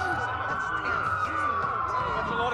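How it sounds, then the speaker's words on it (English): Several police car sirens wail continuously and loudly during a city blackout in the video game Watch Dogs, their pitch sweeping and overlapping with a low rumble beneath. "That's a lot of sirens for a blackout."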